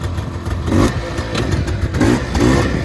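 Honda FL400 Pilot off-road buggy engine idling and revving as it shifts from reverse back to forward through straight-cut transmission gears, with clattering mechanical noise and a couple of short throttle blips, close and loud.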